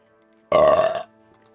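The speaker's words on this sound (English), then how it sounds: "I just burped hella bad on stream." One loud, close burp rumbling for about half a second, sudden and alone against near silence.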